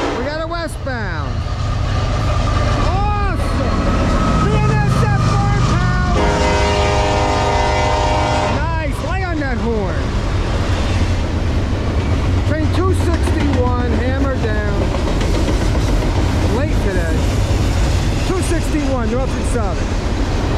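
A westbound Norfolk Southern freight train passes behind a lead BNSF C44-9W and other foreign-power locomotives. Loud, continuous rumble and clatter of the cars fill the clip, with horn-like tonal bursts and talk partly buried beneath them.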